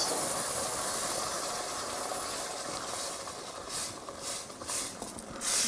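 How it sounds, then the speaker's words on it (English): Tomato sauce simmers in a pan of fresh tomatoes with a steady, close bubbling hiss throughout, a few soft knocks near the end. "Now that sauce needs to simmer so that it's able to cook."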